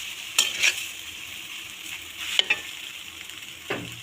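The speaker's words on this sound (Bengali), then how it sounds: "নুডলসগুলো এখন ডিম কাটতে মিক্স করা হবে সুন্দর করে নাড়াচাড়া দিতে হবে" Noodles and egg are stirred and fried in a pan, a soft continuous sizzle broken by a few brief scraping stir strokes, with no voices.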